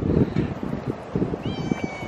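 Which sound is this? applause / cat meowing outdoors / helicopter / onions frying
cat meowing outdoors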